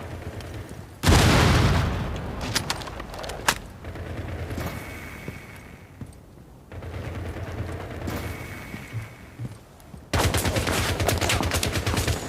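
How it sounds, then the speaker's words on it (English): A frag grenade goes off in Rainbow Six Siege Mobile amid a ranked match, with a sudden loud boom followed by bursts of gunfire and game effects that rise and fall over several seconds. "Grenade frag envoyée"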